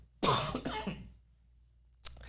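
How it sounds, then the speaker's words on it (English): Two or three harsh coughs in quick succession, close and fairly loud, then quiet, with a short sharp cough starting again near the end. "Sorry, I'm trying not to cough in there."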